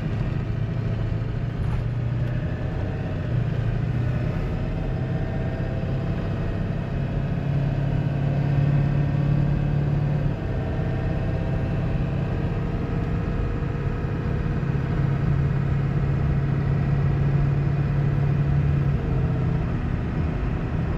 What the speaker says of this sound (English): I'm gonna be quiet so you guys can hear it shift